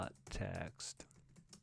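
Computer keyboard keys clatter in a short quick burst of taps, close and fairly quiet, mixed with brief bits of talk.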